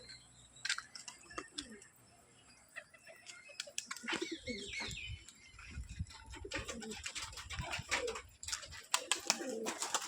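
Pigeons coo and call repeatedly inside a loft, close and fairly faint, with rustling and scattered clicks between the calls and a quiet voice at times.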